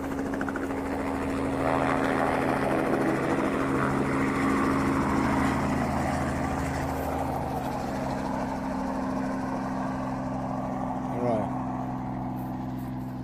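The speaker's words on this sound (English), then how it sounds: "There's the helicopter" Steady low engine drone of a helicopter nearby, with a constant rotor hum and a brief rising whine near the end.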